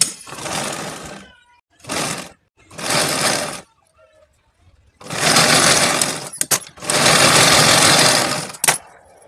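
A sewing machine stitches blouse cloth in several loud close bursts of rapid whirring, separated by short pauses and a few quick clicks.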